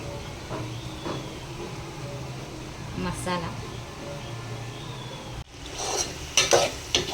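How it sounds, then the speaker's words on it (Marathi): A Kolhapuri-style misal mixture in a pan is stirred after turmeric and spices go in, giving soft scraping strokes over a steady low sizzle, with a louder burst of clatter and sizzle near the end, and a voice in the background. "मसाले घातल्यानंतर हे सगळं मी व्यवस्थित मिक्स करून घेते."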